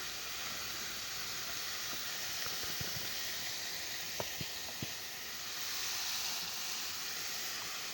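Minced meat and a large chopped onion fry in ghee and oil in a pan, giving a steady broadband sizzle with occasional sharp pops and crackles.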